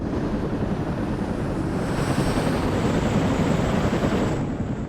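Helicopters in the WARNO wargame drone steadily with a constant broadband engine and rotor roar, loud and unbroken throughout with a faint high whine, no voices.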